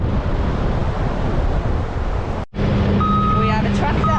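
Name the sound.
tractor on the beach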